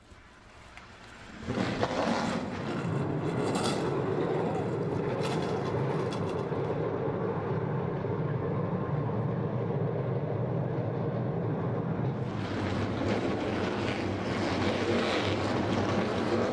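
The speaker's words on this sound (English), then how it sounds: "And so the engines have been fired on the starting grid." NASCAR Pinty's Series race car engines fire up on the starting grid at Canadian Tire Motorsports Park, a quiet murmur jumping into a loud, sustained roar of many engines that swells again toward the end.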